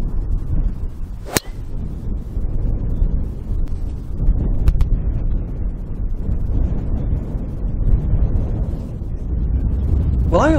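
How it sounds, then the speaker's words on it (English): Strong wind buffets the microphone on a golf course, a steady low roar with a sharp gusting crack near the start and another midway, continuing throughout without speech. "The wind is that strong now, I am completely confused."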